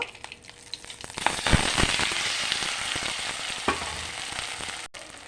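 Potatoes and curry leaves sizzle and crackle steadily in hot oil, a loud, continuous frying hiss with sharp spits and pops that swells after the first second and runs to the end.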